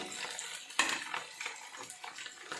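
Garlic frying in oil for a sardine pickle, a soft continuous sizzle with faint stirring scrapes and a brief louder clatter partway through, no talking.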